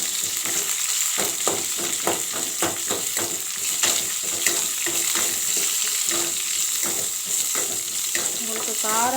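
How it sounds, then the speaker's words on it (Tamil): Ingredients for sundakkai chutney sauté in a hot pan with a continuous loud sizzle and frequent scraping strokes of a stirring spoon. "கொஞ்சம் பச்சை வாசனை போகிற அளவுக்கு நல்லா வதக்கிடணும்."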